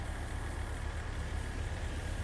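A vehicle engine idles at low volume with a steady, unbroken rumble and no voices.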